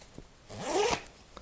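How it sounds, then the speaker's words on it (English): The two-way zipper of a Supreme x The North Face mountain parka slides open with a quick rising zip, then a brief rub of fabric; close and fairly quiet, no voices. "you have a two-way zipper, meaning a zipper that can be opened from the top, like such, or from the bottom"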